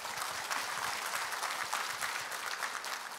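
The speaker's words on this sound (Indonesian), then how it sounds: "Tepuk tangan." Audience applause at an Indonesian company introduction talk, a steady crackle of clapping from a crowd that stays even and moderately loud for about three seconds.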